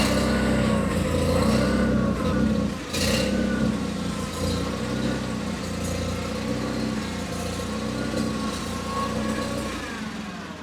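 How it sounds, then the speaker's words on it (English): A John Deere 318 garden tractor's small engine runs steadily at a rumbling idle, close and loud, with a brief dip partway through before settling back to a constant drone. "we can hop up on the tractor again, get it started"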